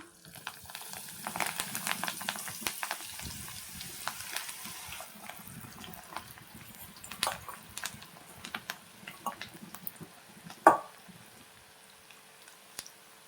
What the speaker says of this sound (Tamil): இப்போ நாம் வாங்க பொறிக்க ஆரம்பிக்கலாம்